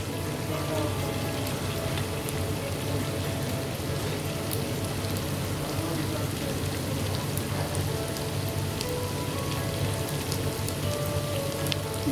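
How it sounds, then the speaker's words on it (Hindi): Thin chicken strips frying in a pan with garlic and ginger, giving a continuous, even, close crackling hiss like rain on a surface, with faint ticks over it. "अब मैं इसमें चिकन डाल देती हूँ ताकि वो फ्राई हो जाए"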